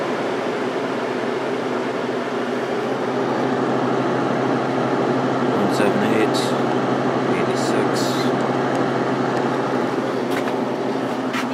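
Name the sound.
vintage Kenmore Whirlpool 5,000 BTU air conditioner running on low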